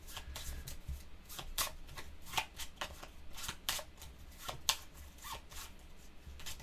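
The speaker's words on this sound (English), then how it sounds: "we have to shuffle first" A deck of board game patrol cards is shuffled by hand, close up and quiet, with repeated short riffling bursts and soft slaps in an irregular rhythm, with no talking.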